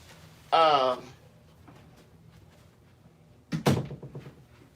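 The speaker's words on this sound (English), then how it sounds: "let me shut my door" An indoor door is pushed shut, a single close, fairly loud thud-and-latch burst near the end, following an earlier brief harmonic squeak or voice-like tone and quiet room noise.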